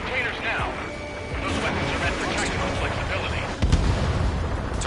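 Explosion-like crash sounds as a target is destroyed in the jet combat game Ace Combat 7, with a sharp thump near the end over continuous game noise and radio chatter.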